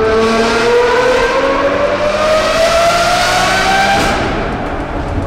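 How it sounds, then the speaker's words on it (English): A Lamborghini Murcielago engine sings out loud and close in one long, rising rev with a smooth climbing pitch, easing off slightly near the end. "Lamborghini Murcielago, specifically Paul's Lamborghini Murcielago."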